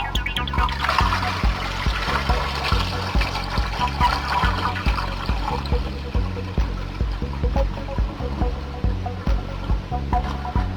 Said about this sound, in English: Now we add enough water to cover them with about 1 inch of water.